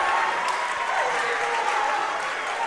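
Basketball crowd in a varsity boys game gym cheers and applauds Suburban's victory over the Community Cougars, a steady loud wash of clapping and voices with no single speaker standing out.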